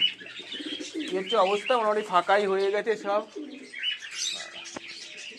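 Giribaz pigeons coo and chirp in a loft. Bursts of throaty cooing come mixed with someone talking nearby, and a brief flutter follows near the end.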